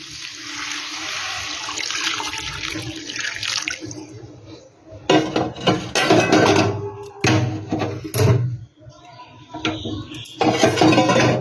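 Hot water streams from a container into a cooking pot of rice for egg pulao, a steady splashing pour lasting several seconds, followed by clanks of the pot and utensils with intermittent watery sounds.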